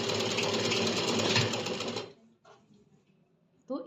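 A sewing machine runs steadily for about two seconds while stitching a salwar seam, giving a fast, even mechanical whir. It then stops, and a few faint handling clicks follow before a short burst of noise at the end.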